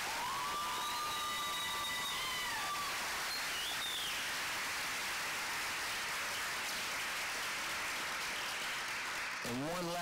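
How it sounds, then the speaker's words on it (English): Seniors and families at a high school graduation ceremony break into loud, continuous applause, with shrill whistles cutting through the clapping early on. "Seniors, please give them a round of applause."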